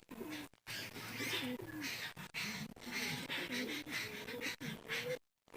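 Pigeons cooing in a backyard loft, a pair of red-pied and black-tailed birds making soft, repeated throaty coos close by, with scattered chirps and a steady background of other birds.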